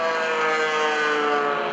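Aerobatic propeller airplanes of an airshow team fly overhead, a continuous droning engine roar with a steady whine, moderately loud and distant, with no talk.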